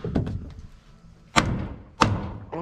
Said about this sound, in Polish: Lekko młotkiem podprostujemy